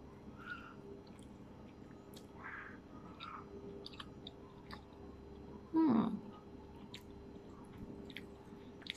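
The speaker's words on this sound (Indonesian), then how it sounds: "Kita gigit lagi." Soft, close chewing of a bite of viral sushi topped with chili flakes, quiet mouth sounds over several seconds with one brief louder squelch midway, no talking.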